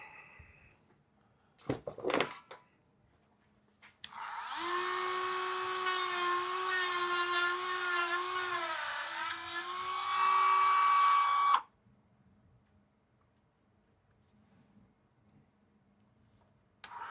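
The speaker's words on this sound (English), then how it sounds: "Where's the Dremel?" A Dremel rotary tool whines at a steady high pitch for about seven seconds, close by in a quiet room, its tone dipping slightly under load midway before cutting off, with a few knocks and handling sounds before it starts.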